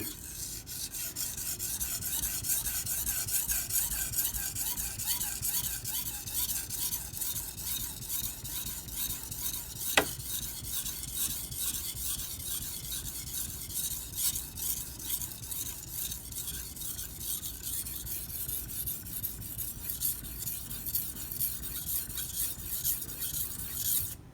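A Karaku AS Gyuto 210mm kitchen knife is stroked along a sharpening stone in a steady, close, rhythmic series of rasping scrapes that continue without pause, with one sharp tap partway through.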